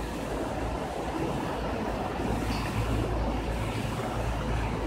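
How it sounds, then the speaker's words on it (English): Jungle waterfall sending down a steady, dense rush of water, a continuous broadband roar with no breaks, fairly close and loud, heard alone with no talking. "here's our nice, beautiful waterfall that we have in the jungle"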